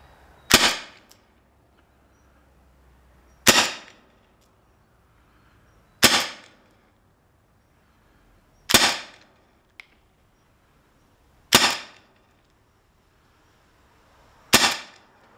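HDR 50 CO2 revolver fitted with a power kit and barrel extension, firing seven sharp, loud single shots at steady intervals of roughly two and a half seconds, each cracking report fading quickly into near silence.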